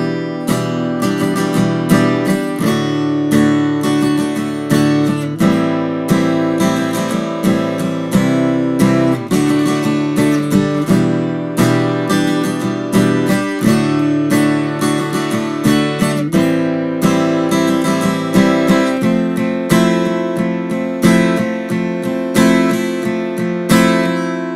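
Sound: acoustic guitar playing a song

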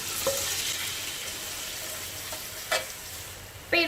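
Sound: sauce-marinated glass noodles added to hot pan with shrimp

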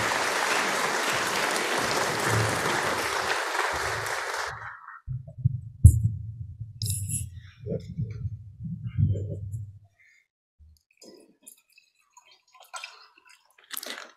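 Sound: audience applause welcoming the lecturer

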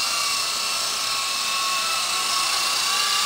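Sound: remote-control helicopter flying

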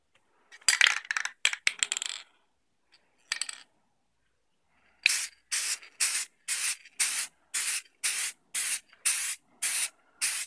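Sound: spray can of Valspar lacquer being sprayed

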